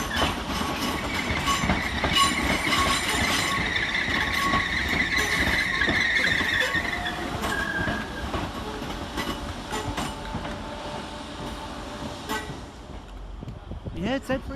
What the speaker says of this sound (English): Next in to terminate with a Merseyrail electric service from Liverpool Central is